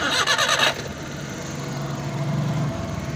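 A brief burst of engine cranking, then the 2020 Suzuki DA63T engine, in neutral, catches and settles into a low, steady, vibrating idle.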